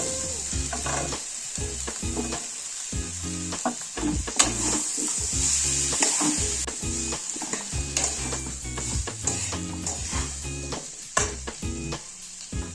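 Vegetables such as potato and carrot sizzle steadily in a hot pan, with frequent scraping and stirring of a spatula against the metal.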